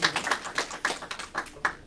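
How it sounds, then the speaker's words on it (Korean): Applause at a New Year thanksgiving church service, a brief burst of scattered hand claps from a small gathering, close and fairly loud. "우리 우선 김인태 전사님한테 박수 한번 부탁드립니다"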